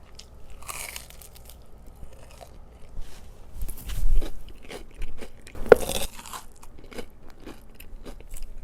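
Crunchy breaded pork cutlet (tonkatsu) with a sweet-spicy sauce being bitten and chewed up close, with a few loud crisp crunches and softer chewing between them, no talking.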